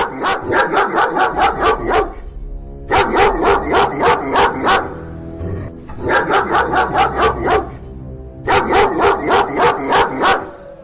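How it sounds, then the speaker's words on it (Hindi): A dog barks loudly in four rapid volleys of several barks each, separated by short pauses, close and unaccompanied by voices, in an animated story. "वो कुत्ता वहाँ से नहीं जाता है और भौंकता ही रहता है"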